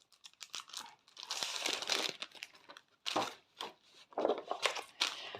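Paper packaging from a craft kit is crinkled and handled during unboxing, giving close, sharp rustling and crackling in irregular bursts with brief pauses and no talking.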